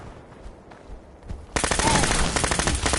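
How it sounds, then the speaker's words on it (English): Automatic gunfire in Fallout 4 breaks out halfway through after a quiet stretch, a loud, dense, rapid burst of shots that continues to the end. "Opening fire."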